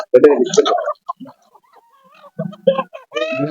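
A chicken clucks in short bursts close by, mixed with brief voices and pauses.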